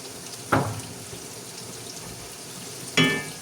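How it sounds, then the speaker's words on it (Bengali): Chopped onions frying in oil for a thin chicken curry, a steady soft sizzle throughout with two sharper bursts as pieces hit or get stirred in the hot pan. "পেঁয়াজ কুচি দেওয়ার পরে আমি এটাকে একটু ভেজে নেব"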